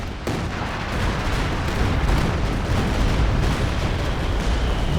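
Dense artillery barrage in the Company of Heroes 2 battle, a continuous roar of overlapping booms and blasts filling the whole stretch, loud and unbroken, with no voices.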